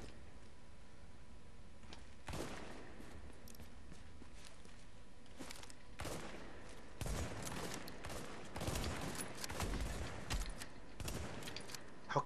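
Shotgun fire in the online shooter The Division, heard as quiet, scattered bursts of blasts and clatter against a faint game background, growing busier toward the end.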